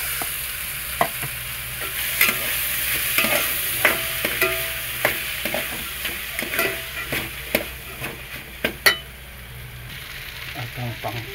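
A corn sauté with garlic, ginisa con mais, is stirred in a pan, with repeated scraping and tapping strokes of a utensil over a continuous sizzle throughout.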